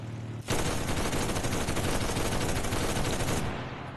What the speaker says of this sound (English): the nice thing about these machine guns is that they operate the same way as the machine guns you carry with your squad